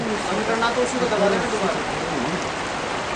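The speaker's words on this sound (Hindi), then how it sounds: "रामबाड़ा का कल कल करते हुए झरने किस तरह से मंदाकिनी में सम्मिलित हो जाते हैं" Mountain waterfalls at Rambara in the Himalayas rushing into the Mandakini river, a steady broadband roar of falling water throughout, with someone speaking over it.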